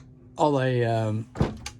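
A cabin door latch on a center-cockpit ketch gives a single sharp click right after a drawn-out voice, close by and brief.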